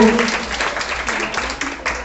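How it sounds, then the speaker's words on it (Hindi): Audience applause at a school Republic Day function, a short burst of clapping from a crowd with voices mixed in. "बस एक बार तालियों का शोर कर दीजिए"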